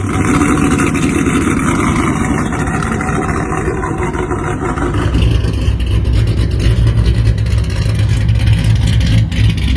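A 6.4 engine fitted with an aftermarket cam runs loud and close, with a rough, choppy idle that deepens into a heavier, louder rumble partway through.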